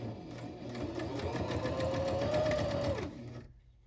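A sewing machine stitches a dress seam with a longer stitch length, a steady, fast mechanical whirring hum for about three seconds that rises slightly in pitch near the end before stopping abruptly.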